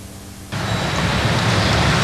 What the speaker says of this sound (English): It's been raining all day, raining all night.